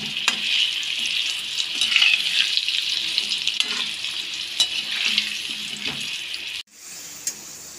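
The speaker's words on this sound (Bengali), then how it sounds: "আলুগুলো অল্প সামান্য লবণ আর হলুদ দিয়ে ভেজে নেওয়া হলো।" Potato pieces fry with a little salt and turmeric in a pan, making a close, continuous sizzle with a few stirring knocks before it cuts off near the end.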